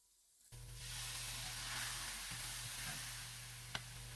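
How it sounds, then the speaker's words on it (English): Mushroom, onion and spinach sizzle steadily in a hot pan after hitting the surface, a broad continuous frying hiss with a faint stir or clink near the end. "Into a hot pan, the same one I used before, goes some mushroom, some onion, and a decent amount of spinach"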